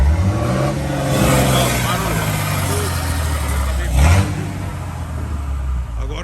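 A Ford F-250 diesel pickup engine revs close by, a deep low drone rising and falling with a sharp throttle blip near the end, while people talk over it.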